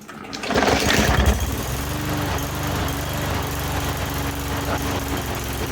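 A push mower engine runs steadily after a restart following a spring tune-up and no-start fix, with a loud surge at first that settles into an even, continuous drone.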